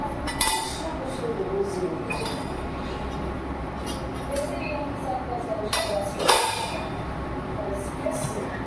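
A metal spoon clinks against a pot or dish while half a spoonful of ajwain (carom seeds) goes into a home cough remedy, a few light bright taps over steady kitchen background noise.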